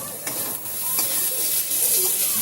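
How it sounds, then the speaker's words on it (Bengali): Onions fry in hot oil in a pan, giving a loud, steady sizzle with soft scraping stir noises throughout and no voices. "আর পেঁয়াজটাও ভালো করে ভাজা হয়ে যাবে।"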